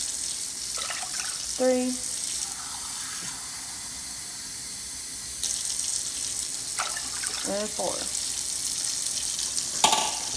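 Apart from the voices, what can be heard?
tap water running while measuring cups for rice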